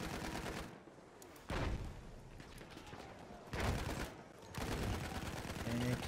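Gunfire in a Battlefield-style shooter at a PS4 esports match with tanks in play, dense bursts of rapid shots in loud waves that fade and return, with commentary voices underneath.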